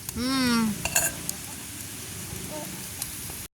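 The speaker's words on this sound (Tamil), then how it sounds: "இப்போ நாங்கள் கறியோட சேர்ந்தாக்க நல்ல வடிவா அப்படியே கலந்து விடுவோம்" Banana stem curry being stirred in a frying pan, with a steady sizzle and soft scraping throughout and a brief voice-like tone near the start.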